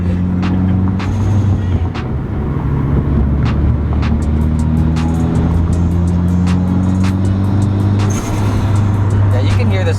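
A Mitsubishi Evo X with an AEM cold air intake roars from inside the cabin, its engine and turbo spool loud and steady with rising and falling whine, while voices talk over it.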